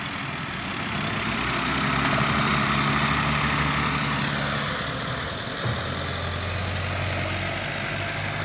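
Several tractors drive over and compact a corn silage pile in the evening, a steady low engine drone with a deeper rumble coming in near the end, moderately loud and continuous without speech.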